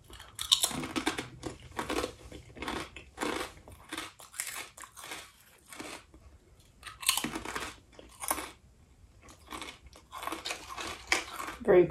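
Loud, close crunching of kettle-cooked sea salt potato chips in repeated bites, with irregular bursts of chewing and brief quiet gaps between.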